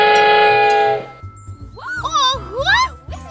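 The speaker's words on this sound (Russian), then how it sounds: "Вот это свисток! Как же громко!" A loud, sustained cartoon train whistle on Mickey's farm blares for about a second, then stops, followed by animated cartoonish vocal sounds and rumbling.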